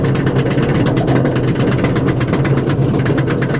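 Untamed, an RMC roller coaster at Walibi Holland, climbs its slow lift hill, a steady droning mechanical rumble with a rhythmic ticking texture that runs loud and constant throughout.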